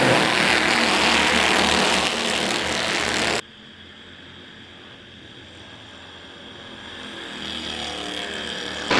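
Race cars on a dirt oval roar loudly as a pack at the green flag, then the noise drops off sharply and swells again as the field returns.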